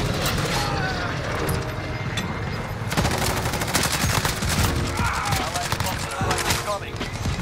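CR-56 AMAX assault rifle firing in Modern Warfare, loud rapid bursts and sustained automatic fire with game effects throughout, players talking over it.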